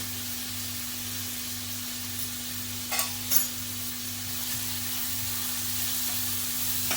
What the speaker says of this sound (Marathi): कांदा अगदी थोडा शिजवून घ्यायचा आहे आपल्याला त्याच्यामध्ये पाव चमच हिंग घालते